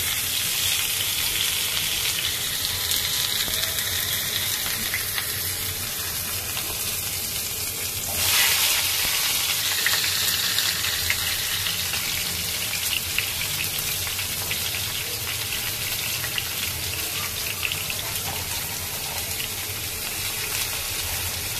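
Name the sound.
onions frying in oil in a wok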